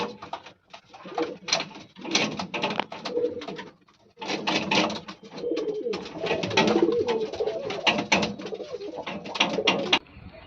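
Pigeons in a loft coo steadily and close by, overlapping throaty calls in quick repeated phrases with a brief lull near the middle, birds calling throughout.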